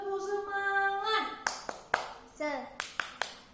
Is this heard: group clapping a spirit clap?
yes